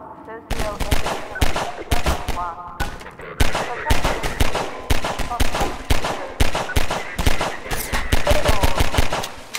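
Gunfire in the first-person shooter Half-Life 2, loud rapid bursts of shots in quick, repeated volleys with brief pauses, and a voice talking now and then between them.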